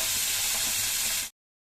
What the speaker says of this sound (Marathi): पनीर शेलो फ्राय करून घेऊया त्यासाठी एक चमचा तेल दोनशे ग्राम पनीर घेतलेलं आहे